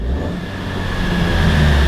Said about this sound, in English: Let's give her some revs here.